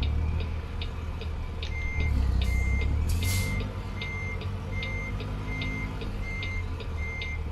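Repeated reversing beeps from a truck in American Truck Simulator, evenly spaced high bleeps over a steady low engine rumble, clear throughout with no talk.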